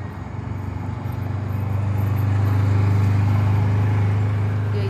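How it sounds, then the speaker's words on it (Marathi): A maintenance vehicle drives around a riverside park along the Connecticut River, its engine a steady low drone that grows slightly louder and holds close by. "अशा गाड्या फिरत असतात."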